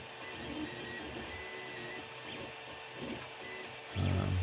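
A 3D printer works through a reindeer model with tree-style supports, giving a steady close whir of stepper motors and fans that grows louder and deeper in the final half second.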